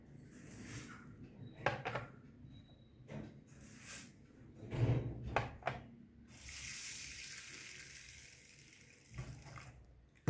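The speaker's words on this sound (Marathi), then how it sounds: "यात आपण एक दोन पाण्याने स्वच्छ धुवून त्याच्यात पाणी घालून ठेवूया" Lentils and rice are washed in water in a bowl, with faint sloshing, rubbing and rinsing sounds coming in short bursts, close but quiet, and a running-water stretch in the middle.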